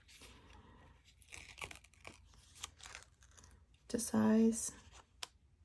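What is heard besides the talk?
scissors cutting washi tape to size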